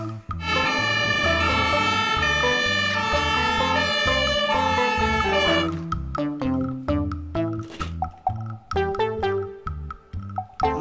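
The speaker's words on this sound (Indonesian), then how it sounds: "Mobil truk pemadam kebakaran." A fire engine siren's sustained tone rings over bouncy music for several seconds, then cuts out, leaving the plucky tune alone.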